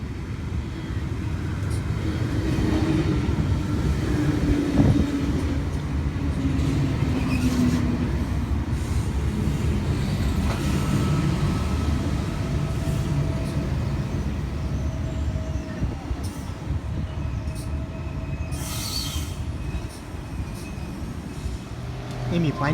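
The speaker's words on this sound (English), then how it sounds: "Emu Plains service departing platform number 3, T71 leading and T77 trailing." A Sydney Trains electric train at Penrith platform rumbles steadily with wheel and rail noise and occasional faint squeals, while a voice talks intermittently over it.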